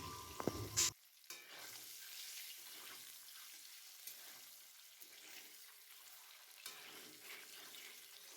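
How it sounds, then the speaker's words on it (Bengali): Eggs frying in a little oil with turmeric and salt in a wok, a soft sizzle with occasional stirring scrapes after a brief loud clatter at the start; faint and close, no voices. "কড়াইতে একটু তেল দিয়ে তাতে দেব হলুদ ও লবণ দিয়ে ডিমগুলোকে ভালোভাবে এপিড ওপিড করে লাল লাল করে ভেজে তুলে রাখবো"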